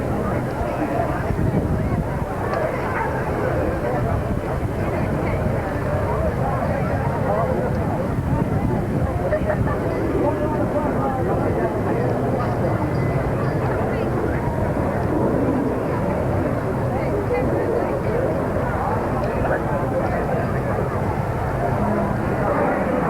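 A Gloster Meteor jet flies over an air show, a steady broad jet rumble heard at a distance beneath crowd noise and talk.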